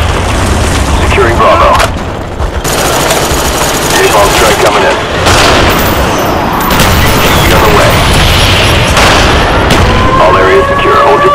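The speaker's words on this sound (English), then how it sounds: "Napalm strike coming in" Napalm strike explosions in Call of Duty: Black Ops, Berlin Wall domination map, rumble as loud, continuous booming with dense gunfire and engine roar throughout, a brief dip near two seconds, and game voice chatter mixed in.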